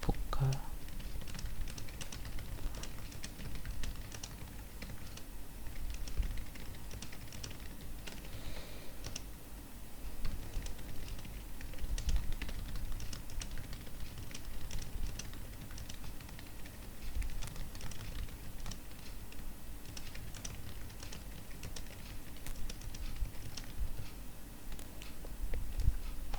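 Steady typing on a computer keyboard during a Microsoft Word practice session in an information systems lab, a quiet continuous patter of key clicks over low room hum, with faint murmured speech at times.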